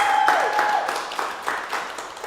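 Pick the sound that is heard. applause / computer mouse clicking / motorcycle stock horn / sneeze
applause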